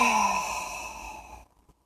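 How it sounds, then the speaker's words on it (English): A single deep cleansing breath, heard close and clear as a long, airy exhale that gradually fades into silence. "take 3 big, deep cleansing breaths as you do this"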